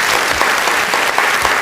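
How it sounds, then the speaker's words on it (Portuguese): Loud, close applause from a studio audience for a guest, thick continuous clapping that holds steady for the whole stretch. "Eu queria uma salva de palmas para o Ivan aqui agora"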